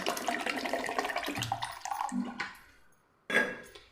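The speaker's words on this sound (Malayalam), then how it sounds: "ഞാനിപ്പോൾ ഇവിടെ ഐസ് വാട്ടർ തന്നെ എടുത്തിട്ടുള്ളത്, അതും കൂടെ ഒഴിക്കാം." Ice water poured into lemon juice in a vessel, a close splashing pour that thins and stops, followed by a brief final splash.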